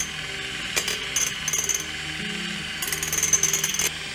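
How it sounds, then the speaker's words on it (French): Electric mixer whisking five egg whites in a mixing bowl, a steady whirring hum with beater rattle against the bowl that briefly speeds up and intensifies in bursts, heard alone without talk. "On a mis 5 blancs dans un saladier et maintenant on va les fouetter pas trop ferme."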